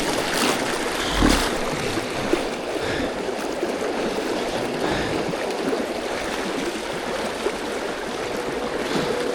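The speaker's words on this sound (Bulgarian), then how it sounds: "Но реката е брутално бърза." A fast, brutally swift river rushes past, a steady broadband roar of churning water close by with a few brief splashes, no voices.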